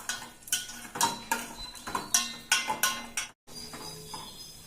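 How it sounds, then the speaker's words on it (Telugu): Cashews being stirred in ghee in a pan, a steady series of metal spoon scrapes and clinks against the pan with faint sizzling underneath, close and rhythmic. "నెయ్యి వేసుకొని మనం ఫస్ట్ జీడిపప్పు ఫ్రై చేసుకోవాలండి."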